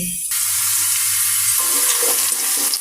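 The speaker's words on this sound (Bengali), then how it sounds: "পেঁয়াজের সাথে সব রকম মশলা দিয়ে দিছি তেজপাতা দারচিনি এলাচ গোলমরিচ সব কিছু দিয়ে দিছি এটা ভালো করে ভেজে নেব এখন" Onion frying in a pan with whole spices (bay leaf, cinnamon, cardamom, peppercorns), a steady close broadband sizzle that swells sharply after a brief quiet start, with faint stirring scrapes and no talk.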